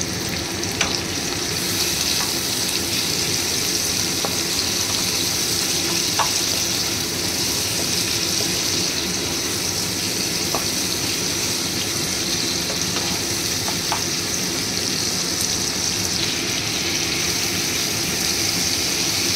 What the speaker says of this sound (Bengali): এর মধ্যে আমি চিকেন কুচিটা আর সসেজ কুচিটা দিয়ে দেবো। দিয়ে ভালো করে ফ্রাই করব।